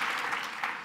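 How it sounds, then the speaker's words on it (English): An audience at a live interview event with Arnold Schwarzenegger claps in a brief, moderately loud burst of mixed applause lasting under a second. "Clap if you're South African here."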